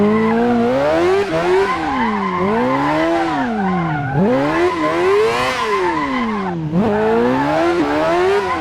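A 600cc Crossguard car with a Yamaha R6 motorcycle engine drifts in the Assetto Corsa racing game. The high-revving engine wails and swings up and down through shifts, with continuous tire squeal throughout, loud and close, and nobody speaking.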